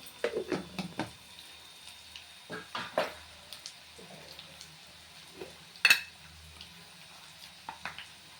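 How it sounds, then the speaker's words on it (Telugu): Ginger garlic paste and turmeric stirred in a pan for a gongura curry: intermittent scraping and clinking of a utensil against the pan in short irregular bursts, with one sharper clatter near the middle over a quiet background. "ఇవన్నీ వేసి మంచిగా నీట్గా కలుపుదాము"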